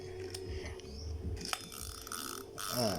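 A Daiwa Sprinter HV3500 fishing reel's ratchet clicks in quick, irregular bursts of sharp mechanical ticks, close by and fairly loud.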